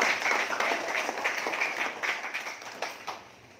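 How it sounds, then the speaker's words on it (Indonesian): Audience applause at a trade union federation's 20th anniversary evening event, a steady patter of clapping that gradually thins and fades out over a few seconds. "Tepuk tangan dulu untuk SPBI."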